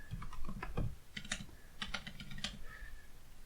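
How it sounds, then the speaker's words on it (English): Quick bursts of keystrokes on a computer keyboard as terminal commands are typed in irregular clusters with short pauses, close and fairly quiet over a low room hum. "I know you see me typing out ls, right, hyphen al to list out the directory"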